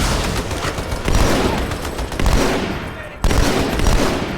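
Plasma pistol fire from the Halo 2 video game: dense, loud, nearly continuous bursts of energy shots with two brief pauses, heard alone without talk.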